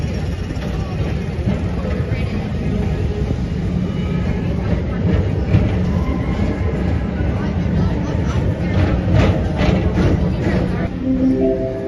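A train rumbles along the rails at Magic Kingdom, a loud, steady rolling roar with rhythmic clatter close by, mixed with crowd and background noise.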